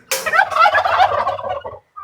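Turkeys on a Kerala farm, a flock of white, brown and black birds, give one long loud gobbling call that rattles on for close to two seconds, followed by a short faint call at the end.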